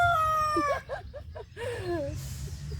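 A chicken sound from a noise-making toy box, a series of squawking, warbling clucks and a crow-like call, close and clear over a low hum.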